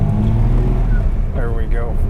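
A 1961 Mercedes-Benz 220Sb W111 with a column-shift 4-speed manual is driven in first gear. The engine hums loud and low throughout, and a voice talks over it toward the end.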